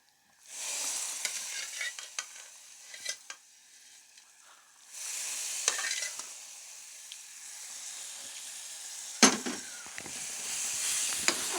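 Vermicelli for sheer khorma sizzles and hisses in a pan as it is stirred, with scraping clicks and bursts of frying noise that come in waves, close up and with no talking.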